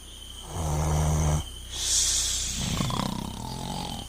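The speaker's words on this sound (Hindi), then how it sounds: "राजा अपना मुंह खोलकर और खर्राटे लेते हुए बड़े आराम से सो रहे थे" A cartoon king sleeping with his mouth wide open snores loudly in an exaggerated, voiced style: a rumbling inhale followed by a hissing, whistling exhale, with no talk over it.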